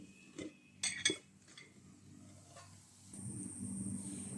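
An omelette is flipped in a pan, with a few sharp clinks of a utensil against metal followed by a soft, steady sizzle, all faint.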